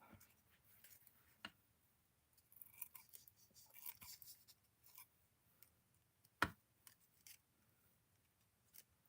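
Fabric scissors cutting light lavender tulle give soft, sparse snips and crisp clicks of the blades, close and quiet, with short pauses and a faint rustle between cuts.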